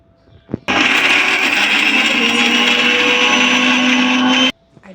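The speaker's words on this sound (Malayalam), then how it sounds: "മിക്സിയിലിട്ട് ഒന്ന് അടിച്ചെടുക്കണം." A kitchen mixer grinder blends a Kerala-style coconut chutney with tamarind, whirring loudly and steadily for about four seconds before cutting off abruptly, with quiet moments before and after.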